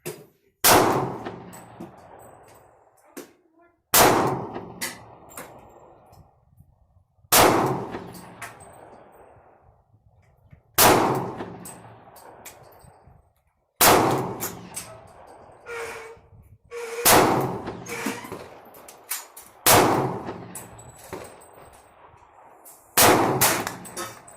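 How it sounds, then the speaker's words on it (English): Taurus TH40 semi-automatic pistol in .40 S&W fired at a range: eight loud, sharp shots spaced roughly every three seconds, each with a ringing decay, no talking. "let's go ahead and put some of that shooting footage up here, and you can take a look at it."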